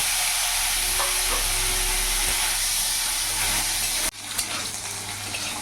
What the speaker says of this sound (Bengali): এর মধ্যে আলুগুলোও ভেজে নেব